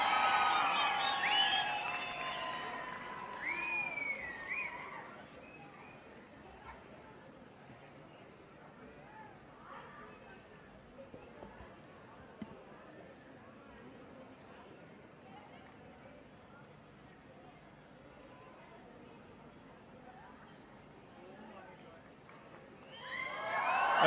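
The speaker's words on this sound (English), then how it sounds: "A huge round of applause there." A large crowd at an outdoor stage event in Mysuru cheers and claps for arriving guests, a low sustained roar of applause and whoops heard from a distance, with a voice over the loudspeaker at the start and end.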